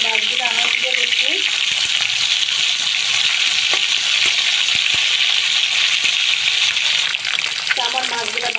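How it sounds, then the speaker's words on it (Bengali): Fish fry in hot soybean oil in a pan, a loud, continuous sizzle and crackle with occasional stirring knocks and faint voices in the background. "এখন আমি সবগুলো মাছ দিয়ে দিই ভাজার জন্য"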